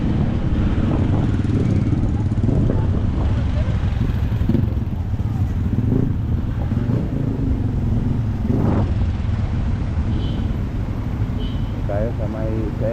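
Cars and motorcycles in road traffic on a Filipino street during a road trip, a continuous low engine rumble with vehicles passing nearby and a voice talking over it.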